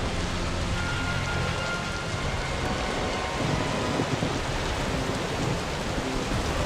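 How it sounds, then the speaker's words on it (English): Steady heavy rain with low rumbling thunder during a storm in the Dungeons 4 video game, a dense continuous wash of noise holding loud throughout with no voices. "Another storm was brewing."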